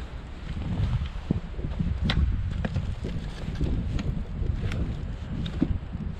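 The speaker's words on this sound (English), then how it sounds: "the wind is coming from this direction, so it's just there for wind" Steady wind gusts buffet a lakeside campsite fire pit at Spectacle Lake, Wisconsin, a continuous rough rumble with scattered light clicks and knocks over it.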